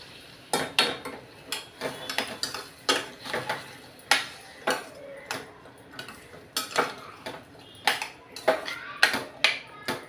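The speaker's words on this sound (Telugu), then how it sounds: "ఇప్పుడు శుభ్రంగా కలుపుకోవాలి." A metal utensil stirs rasam curry in a pot, making about twenty close, sharp clinks and scrapes in an uneven rhythm, with no voices over them.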